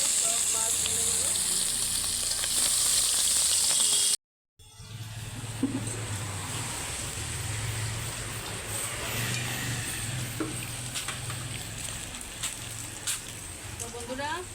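Rui fish fries in oil for a poppy-seed fish curry, first a loud close sizzle, then after a short break a quieter, crackling fry with sparse pops.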